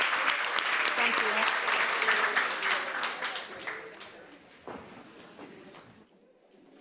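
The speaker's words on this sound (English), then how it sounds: "Can we give them another round of applause," Audience applause for a panel at a women's empowerment summit, steady dense clapping that fades over several seconds into a few scattered claps and quiet.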